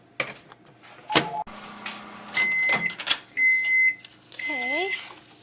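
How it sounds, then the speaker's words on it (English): A microwave oven runs with a toothbrush inside, its steady hum broken by door clatter, a few beeps and sliding electronic tones, with a voice speaking nearby. "put the toothbrush in the microwave for 1 minute"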